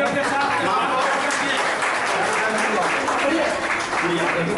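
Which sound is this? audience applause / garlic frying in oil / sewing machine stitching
audience applause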